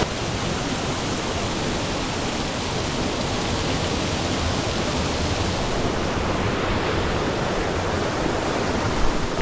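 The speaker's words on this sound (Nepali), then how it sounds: "माथिको यो जुन झर्नाबाट पानी झरेको छ नि, त्योसँगै चिसो हावा आएको छ" A waterfall pours into a natural pool near Pokhara, a dense, steady roar of falling water close by with no breaks or voices.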